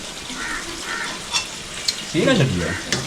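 Fish sizzling in hot oil in a Chinese wok, a steady crackling fry with a few sharp clinks of a utensil against the pan, close and fairly loud, with a brief voice in the middle.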